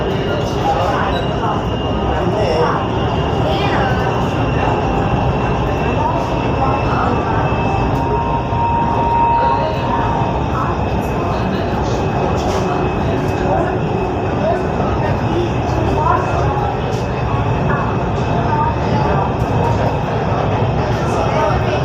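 A Lahore Orange Line metro train runs on its route out of Aliпur, heard from inside the carriage as a loud, steady rumble and rolling hum that lasts the whole time, with faint voices in the background.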